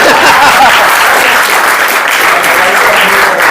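An audience claps loudly and steadily, dense applause filling the whole moment close by.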